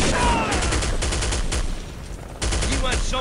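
Rapid automatic gunfire from Counter-Strike: Condition Zero, loud close bursts of evenly spaced shots with a brief pause before firing resumes.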